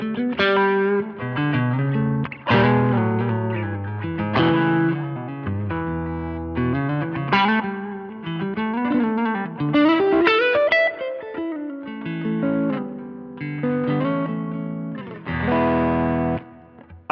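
Electric guitar played through a Mid Push drive pedal, a Tube Screamer-style overdrive with the gain backed right off, in a digital rig. Chords and single notes carry a light, mildly crunchy drive with some chorus and reverb, played continuously and alone.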